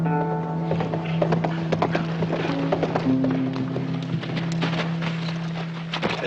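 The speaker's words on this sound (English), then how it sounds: "There's a rider coming in." Horse hooves clip-clop steadily as a rider approaches, over a constant low hum and other background noise, moderately loud and fairly close.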